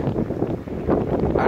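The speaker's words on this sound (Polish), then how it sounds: "ale wiatr." Strong wind gusts across a forest clearing in Kabaty Forest, Warsaw, buffeting the microphone with a steady, loud rumbling roar that swells slightly near the end.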